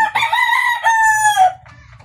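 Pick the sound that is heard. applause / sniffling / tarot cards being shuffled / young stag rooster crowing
young stag rooster crowing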